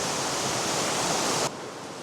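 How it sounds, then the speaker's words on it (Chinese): Waterfall pouring down inside a vast underground cave, a loud, steady broadband roar that continues unbroken, then drops abruptly to a quieter, duller rush partway through. "就是这个瀑布，日复一日、年复一年的冲刷"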